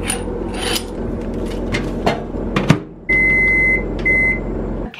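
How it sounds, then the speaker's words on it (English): A microwave oven runs as a steady low hum, with scraping and rubbing noises over it, then a loud continuous drone and several high electronic beeps. "So I'm gonna put this in the microwave for 7 minutes."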